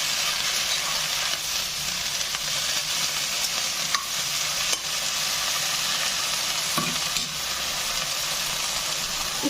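Lau leaf paste frying in oil in a pan while being stirred, a steady close sizzle running throughout with occasional scrape and clatter of the spoon, no talking.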